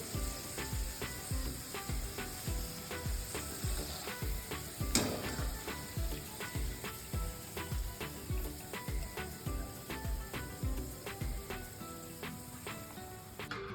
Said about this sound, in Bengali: এইভাবে আমি ঢ্যাঁড়সগুলোকে ফ্রাই করে নিলাম